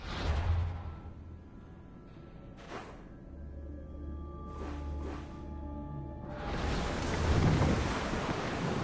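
A sailing ship at sea in Assassin's Creed Odyssey, with rushing waves and wind surging loudly, then easing into creaks and hull noise before a broad wash of surf swells at the end.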